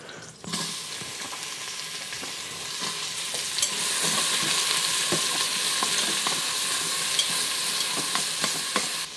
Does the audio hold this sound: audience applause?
no